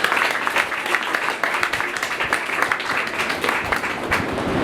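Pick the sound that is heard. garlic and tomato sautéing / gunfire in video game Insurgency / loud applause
loud applause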